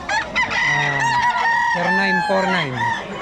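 A rooster crows loudly and close by at a pet market, its long call overlapping with other clucking chickens.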